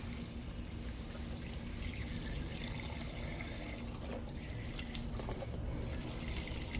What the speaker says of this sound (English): Now I'm going to add in my chicken broth.